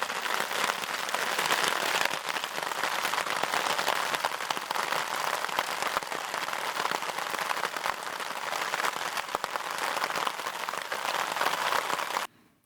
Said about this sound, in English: It is raining. Whew. We have hail.